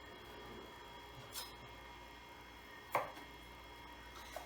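An onion being cut with a kitchen knife: three soft, sparse thuds of the blade, each well apart, faint and alone in a quiet room.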